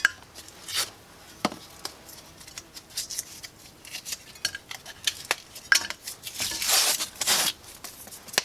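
Broken pieces of plasterboard are handled in a pan, giving scraping, rubbing and clinking crunches in irregular bursts, close and moderately loud, growing busier toward the end.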